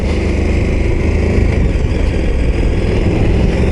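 Engine of a KTM 1290 Super Adventure S motorcycle while riding, a steady loud drone that stays even throughout, with no talking over it.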